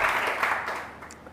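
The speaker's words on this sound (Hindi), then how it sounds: "बहुत सारी तालियां दरख्शा के लिए" A studio audience on a morning TV show claps for a guest joining the program, a dense burst of applause that is loud at first and then fades over about a second.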